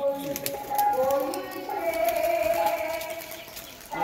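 Pet pigeons coo softly and close by, with low, throaty calls mixed in among people talking nearby.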